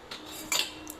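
A utensil stirring pasta with a little oil in a metal pot gives two or three quick, light scrapes and clinks close by, faint and brief.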